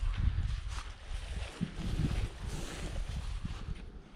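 Wind in the Uinta mountains rushes steadily and roughly across the microphone, buffeting loudly throughout with no voices.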